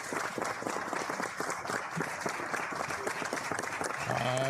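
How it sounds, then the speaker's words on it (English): Applause in a Senate hearing room: a steady, moderately loud patter of many hands clapping throughout, with a brief tonal sound at the end. "I love the applause."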